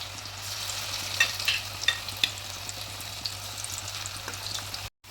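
Sunflower oil sizzles steadily over a low flame while a street-stall style kalan dish cooks, with a few small pops and clicks and a brief cutoff at the very end.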